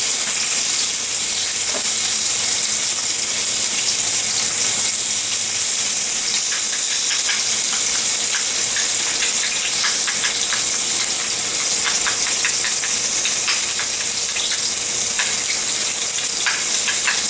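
Lamb chops sizzle on a cast iron grill pan, a loud, steady hissing crackle with fine popping spatter throughout, close up and with no voices.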